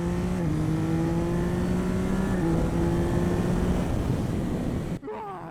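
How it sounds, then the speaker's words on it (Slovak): A 2024 Yamaha MT-09 Y-AMT motorcycle engine revs up loudly and climbs in pitch, the strained whine rising over several seconds before cutting off abruptly, then idling lower. "Poďme si tu vyskúšať ten motor"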